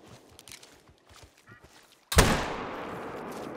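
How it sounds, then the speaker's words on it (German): A single loud rifle shot while hunting warthogs at dusk in theHunter: Call of the Wild, a sharp close crack with a short rolling echo, after quiet rustling and soft footsteps. "Ich schieße da einfach mal."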